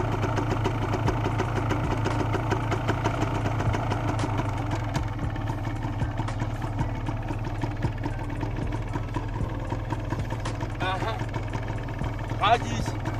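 A motorcycle engine runs steadily at a low idle during a riding lesson, close and continuous, with a few faint sounds rising briefly near the end.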